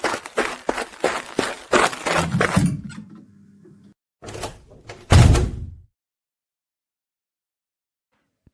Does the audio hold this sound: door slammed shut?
yes